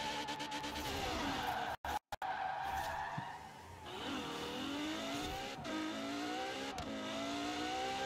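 A car in the Forza Horizon 4 racing game skids with long tire squeals while its engine revs and climbs through the gears, loud and continuous, with brief dropouts.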